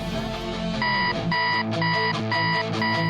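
Alarm going off in a repeating electronic pattern of bright beeping bursts with short gaps between them, loud and close, with no talking over it.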